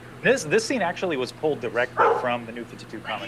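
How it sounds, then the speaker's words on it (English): A dog barks and yips several times in short bursts at close range while a person talks over it. "Sorry for that dog there."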